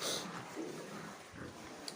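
Yorkshire pigs on a farm, one sow in heat, giving soft low grunts and snuffling breaths close by, quiet and irregular over faint background noise.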